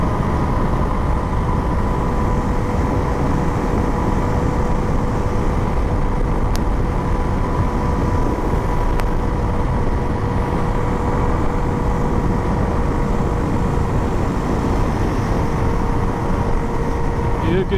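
A 2025 Suzuki DR-Z4S motorcycle cruises at high RPM, a steady droning engine note with wind rush throughout, fairly loud and unchanging, with a voice talking over it.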